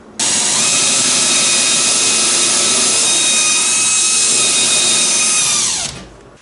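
Power drill with a countersink bit boring into wooden floorboards of a wooden boat, one continuous loud whirring grind lasting about six seconds, alone and close, then spinning down.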